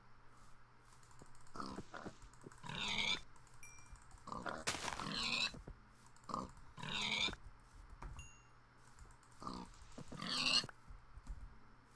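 Pigs in a Minecraft hardcore survival game oink and grunt in several short bursts, moderately close and fairly loud against a quiet background.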